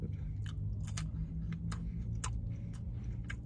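Burger King chicken fries being chewed close up, a run of crisp, sharp bites and crunches over a low steady background hum, with no talking.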